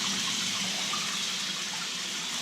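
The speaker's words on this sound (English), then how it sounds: "I let this start filling up with whatever temperature water is going in there." Hot tap water pours into a jetted bathtub in a new home, a steady, close, full-bodied rushing gush that holds unbroken throughout.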